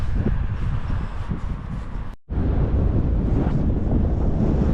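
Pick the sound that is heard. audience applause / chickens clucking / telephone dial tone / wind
wind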